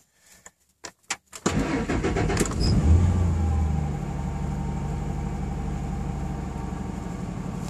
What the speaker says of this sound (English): let's get the cold start going.